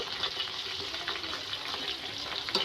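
Chopped garlic stirred into homemade herbal hair oil heating in a pan, giving a steady, fairly quiet frying hiss with faint stirring scrapes and a small clink near the end.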